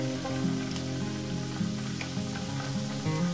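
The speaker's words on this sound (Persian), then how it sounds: "یه پیاز متوسط هم دارم که نگینی خوردش کردم، تو تابه داره سرخ میشه" Diced medium onion sizzles and fries in a pan on the stove, a steady close crackle with light stirring clatter, no voices.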